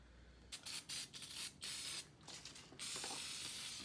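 Brake cleaner sprayed from an aerosol can onto an engine block, a series of close, sharp hissing bursts of varying length, short spurts followed by a longer sustained spray at the end, with no talking.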